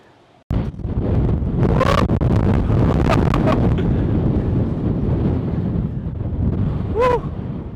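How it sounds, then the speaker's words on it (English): Strong wind buffets an outdoor microphone on a warm day, a loud, continuous roaring rumble that starts abruptly and holds steady throughout with no one talking. "Feels really, really nice, really comfortable, but the wind is crazy."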